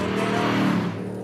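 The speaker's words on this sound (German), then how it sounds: "Der Ferrari-Motor wurde zwar für die Limousine etwas gezähmt, aber die rassige Herkunft ist unverkennbar." A Lancia luxury sedan fitted with a Ferrari engine revs loudly and close, its harmonic exhaust note rising steadily before easing back near the end, with no voices over it.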